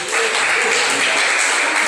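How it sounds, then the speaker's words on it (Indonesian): A congregation at a church service breaks into loud, dense applause, a continuous hiss of many hands clapping together that holds steady throughout. "Tepuk tangan buat melihat Yesus, saudara"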